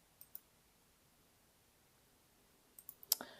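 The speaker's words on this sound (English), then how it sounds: "So we're going to click on add units." Computer mouse clicks sound in a quiet room: a couple of soft clicks near the start, then a quick cluster of sharper clicks toward the end, the loudest near the close.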